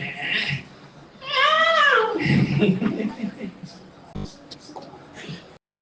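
A voice imitates a cat crying, giving a drawn-out, wavering meow in the middle, with shorter vocal sounds before and after and a sharp click near the end.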